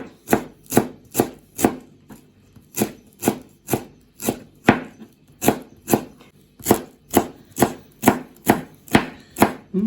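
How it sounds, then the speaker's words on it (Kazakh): A knife chops fresh dill on a cutting board in a steady, rapid rhythm of about twenty crisp, close-up strikes, heard alone without any talk. "Қандай аскөк болса да турай беруге болады, өздеріңізге болса болды. Осылай ұсақтап"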